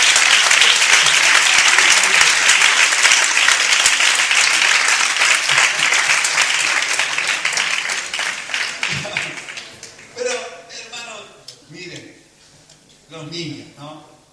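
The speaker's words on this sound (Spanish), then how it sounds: "Un aplauso al Señor por la fe de los niños." A church congregation applauds loudly and continuously, then the clapping fades and a voice speaks over the last few seconds.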